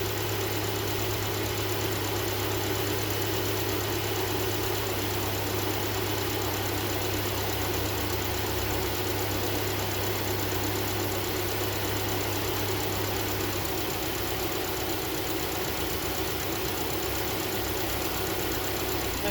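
A Subaru car engine idles steadily and close by during a head gasket leak test, a constant low rumble with a mechanical hum and vibration throughout.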